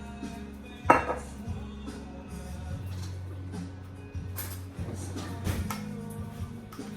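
A spoon stirs ketchup sauce in a bowl for keto pigs in a blanket, making repeated close clinks and scrapes of utensil against dish, with one sharper knock near the start and quiet background hum.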